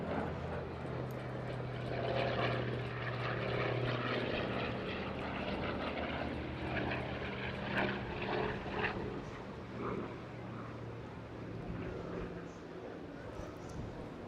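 A Hawker Sea Fury piston-engine fighter drones past at an airshow, a steady, moderately distant propeller roar with a rough, pulsing engine note that swells and fades slightly, while a voice talks over it.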